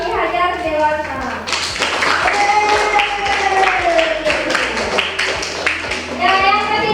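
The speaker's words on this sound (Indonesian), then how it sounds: "tepuk tangan untuk kelompok Ki Hajar Dewantara." Classroom applause for a student group: clapping from a class fills the whole stretch while children's and an adult's voices talk and call out over it.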